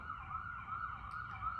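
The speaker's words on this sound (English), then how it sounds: "Sorry for the sirens" An emergency siren wails continuously in a wavering rising-and-falling pattern, heard from a distance over low traffic rumble.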